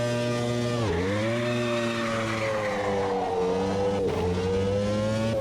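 A race car in the sim racing game Automobilista 2 launching from a standstill without launch control, its engine holding a loud steady drone, then bogging briefly and surging back up through the revs, all close and continuous with no talking.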